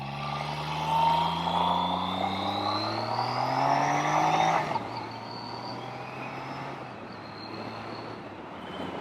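A BMW K75RT motorcycle engine hums while riding, its pitch climbing steadily as it revs through higher RPMs, then dropping sharply with a gear change and settling into a lower drone with wind noise.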